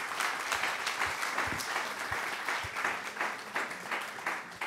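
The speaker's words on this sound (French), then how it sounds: "qu'on peut applaudir chaleureusement" An audience at a French book presentation applauds warmly, giving a thick, sustained round of clapping with scattered sharper claps, close and continuous for several seconds with no talk.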